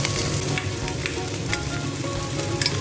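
Steady, loud sizzling and crackling from white rice stir-frying in a hot wok for egg fried rice, with occasional scraping and stirring sounds and no talking.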